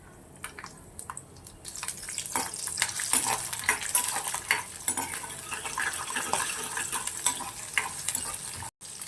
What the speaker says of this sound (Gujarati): આપણા સિંગદાણા છે ફ્રાય થઈ ગયા છે